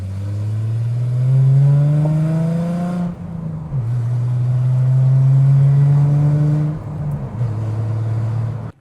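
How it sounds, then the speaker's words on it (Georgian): A modified car built with Opel parts drives along, its engine note rising and falling through two long pulls with a brief gear change dip between, loud and close with no talk. "აი გიორგის მანქანით გავიარეთ."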